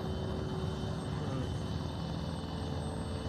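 Continuous helicopter rotor and engine drone, steady and fairly loud throughout, with no breaks.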